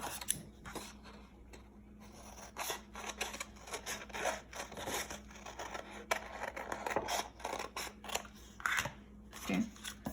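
Scissors snip through a sheet as a shape is cut out, a series of close, crisp cuts and rustling paper spread across the stretch with short pauses between them.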